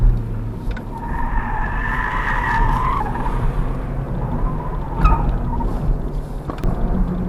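An Opel Astra driven hard on a closed road, with a steady engine and road rumble throughout and a brief high whine early on, plus a sharp transient near the middle and another toward the end.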